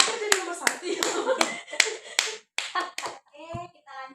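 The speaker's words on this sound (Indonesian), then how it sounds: "Tepuk tangan dulu." Students in a 9th-grade class applaud, with a few sharp, scattered claps mixed in with children's voices and chatter. The clapping is sparse and uneven rather than a sustained round.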